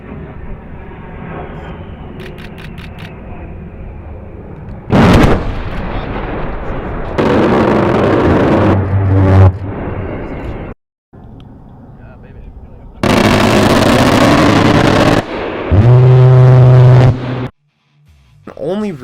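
An A-10 aircraft's 30mm seven-barrel Gatling gun lets loose in several loud, harsh roaring bursts of a second or two each, separated by short gaps and quieter rumbling stretches.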